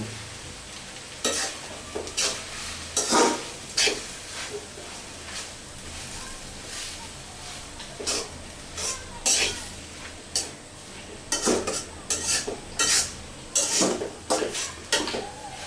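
Water spinach frying with cornflour slurry is stirred in a pan, the spatula scraping in irregular bursts over a steady sizzle, close and fairly loud.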